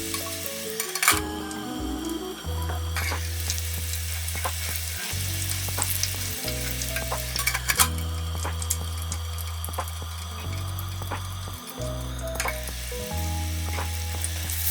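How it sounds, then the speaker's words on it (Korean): Eggplant pieces deep-fry in hot oil inside a strainer, giving a steady, loud sizzle and crackle broken up by clinks and stirring. "이번엔 기름 거름망에 한꺼번에 넣어서 튀겨볼게요. 골고루 있게 중간중간 잘 저어주세요."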